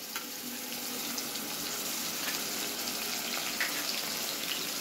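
Green chili, garlic and ginger paste frying in a pan gives a steady, moderate sizzle with a constant broadband hiss, close by and without talk.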